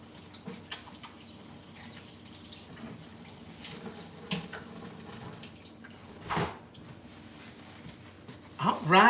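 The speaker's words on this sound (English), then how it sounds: "I'm going to wash my hands" Water runs from a kitchen tap into a sink as hands are washed, a steady close rush with a few splashes and clunks, ending in a louder burst.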